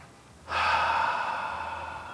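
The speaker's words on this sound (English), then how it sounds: "Take a nice deep breath" A single deep, slow breath drawn in audibly, a soft airy inhale swelling suddenly and fading gradually, close and alone.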